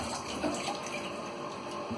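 Tap running water through an on-demand water heater in an apartment, a steady close splashing rush of water, continuous and alone for the whole moment.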